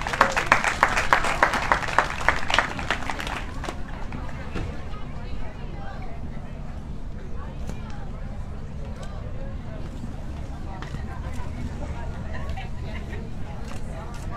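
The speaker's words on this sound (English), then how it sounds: "let's give a big round of applause" A crowd applauds at the outdoor closing ceremony of a Make-A-Wish walk at John Ball Zoo. A loud burst of clapping lasts a few seconds, then fades into open-air murmur, with a voice speaking through the rest.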